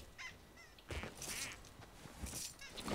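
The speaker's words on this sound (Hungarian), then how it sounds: "Kacsa is." A duck quacking in the Fortnite battle royale game, several short nasal honking calls spread over a few seconds, fairly faint within the game sound.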